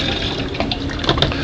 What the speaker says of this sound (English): We're going to pour it back in.